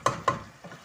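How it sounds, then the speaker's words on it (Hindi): Fenugreek and potatoes being stirred in a pan during frying, with two distinct scraping strokes followed by a softer third, light sizzle underneath, no talking. "अब हम इसकी थोड़ी भुनाई करेंगे।"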